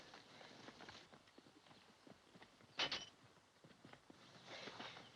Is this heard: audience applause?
no